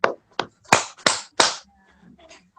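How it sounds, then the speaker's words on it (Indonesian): Participants in an online Zoom meeting clap their hands in a quick, uneven series of about five sharp, close claps, followed by faint background sounds. "Tepuk tiga."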